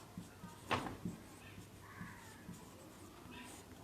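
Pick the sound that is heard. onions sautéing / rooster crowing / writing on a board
writing on a board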